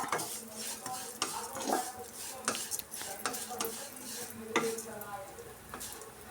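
Vermicelli roasts in ghee in a pan over medium flame, with a spoon scraping and clinking against the metal in an irregular stirring rhythm over a soft, steady frying sizzle, close and clear.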